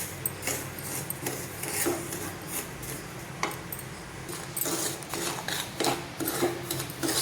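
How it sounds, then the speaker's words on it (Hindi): A spatula scrapes steadily through semolina dry-roasting in a pan for suji laddu, a continuous gritty rasp with repeated stirring strokes and occasional sharper scrapes, heard alone without talk. "इसको हम सुनहरा होने तक भूनेंगे, थोड़ा इसमें कलर आ जाए तब तक इसको हम भूनेंगे।"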